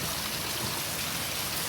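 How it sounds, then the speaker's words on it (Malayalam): Steady rain pours outdoors on a rainy day in Kerala, a dense, even hiss of drops on surfaces close by with no voices. "മഴ അതേപോലെ തന്നെ നിൽക്കാതെ പെയ്തുകൊണ്ടിരിക്കുകയാണ്"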